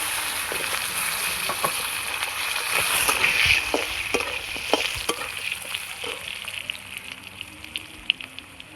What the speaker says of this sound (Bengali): এবার আমি এখানে দিয়ে দেবো কাটা আলুগুলো এর সঙ্গে।